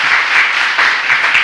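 A club audience applauds a singing contestant as he arrives, a steady dense burst of clapping throughout.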